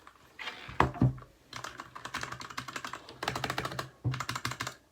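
Typing on a new mechanical keyboard fresh from the box, a close, steady clatter of clicky keystrokes coming in bursts with short pauses, heard alone.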